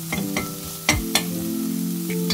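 Curry leaves fry in hot oil for a South Indian curry-leaf rice, crackling in short sharp bursts over a steady sizzle, with a few stirring knocks against the pan. Close and moderately loud, with no voices.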